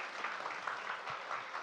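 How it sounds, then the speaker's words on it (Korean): A Korean school audience at a parent-education talk claps for a visiting professor, faint and distant, a soft patter of many hands throughout. "교수님께 다시 한번 크게 박수 부탁드립니다"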